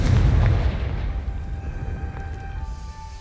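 A Confringo spell explodes in Hogwarts Legacy, opening with a loud, deep boom that fades into a rumbling tail and lingering magical tones.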